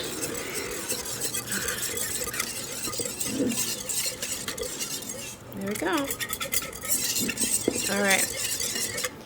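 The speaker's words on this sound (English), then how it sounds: "I'm gonna add my 2 tablespoons of butter, and I'm gonna give that a little whisk" Butter for keto bread is whisked in a bowl, with rapid, uneven scraping and light clinks of the whisk close by, while a person speaks briefly.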